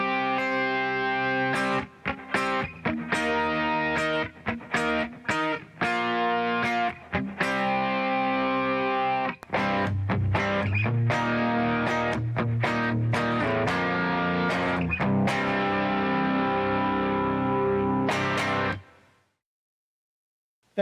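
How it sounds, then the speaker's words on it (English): Electric guitar with distortion and effects strumming 4-string power chords, a chugging series of loud, heavy chord hits with brief gaps between strikes, ending on a ringing chord that fades out. "That's another 4-string power chord."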